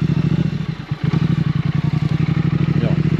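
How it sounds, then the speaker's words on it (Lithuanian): A Triumph Thruxton 1200R motorcycle idles and putters steadily at close range during slow maneuvering, its low pulsing engine beat broken briefly by a thump near the first second. "pats motociklas pakankamai manevringas"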